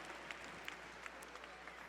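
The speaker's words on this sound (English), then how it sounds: "Big round of applause" Sustained applause from an audience at a charity gala auction, dense and even with a few sharper claps, heard from some distance at a modest level with no voices on top.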